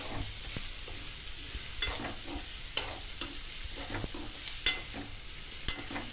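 Onion and cashews frying in a pan, a steady sizzle with intermittent scraping clicks of a stirring spoon, close and moderately quiet, with no talk.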